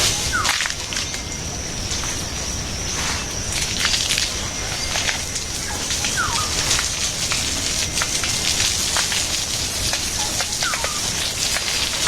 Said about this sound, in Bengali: রোদ উঠছে বাতাস আছে বৃষ্টি